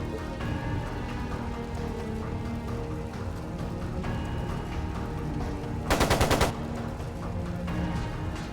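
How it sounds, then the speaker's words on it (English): In the video game Trails of Cold Steel 2, a short, sharp rattle of machine-gun fire cuts in about two-thirds through, loud against a steady musical backdrop, a rapid burst of closely packed shots. "It sounded like a machine gun."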